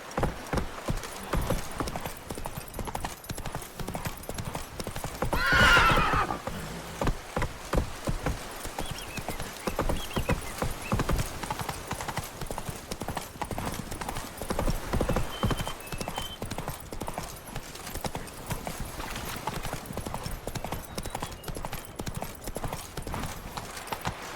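Horse hooves clip-clopping in The Witcher 3: Wild Hunt – Blood and Wine, a steady rhythmic trot of hoofbeats continuing throughout, with a brief whinny early on.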